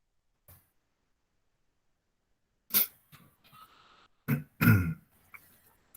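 A lone person coughs and clears their throat during an online lecture, a few close, sharp bursts separated by silence, the last pair loudest and most harsh.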